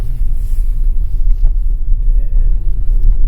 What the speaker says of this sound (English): We're going to do a slalom course in the beginning in 2 high